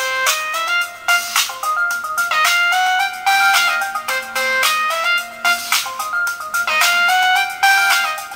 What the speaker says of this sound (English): Verizon Wireless default tone.